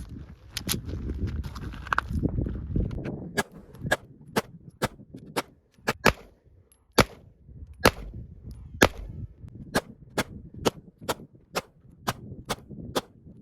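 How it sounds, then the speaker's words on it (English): Twenty-odd sharp pistol shots from a Springfield Armory 1911 DS Prodigy crack out one by one at a steady, unhurried pace, with a brief early stretch of low background rumble and no talking. "we're going to get us a smaller aiming point and see how these 20 rounds rip off"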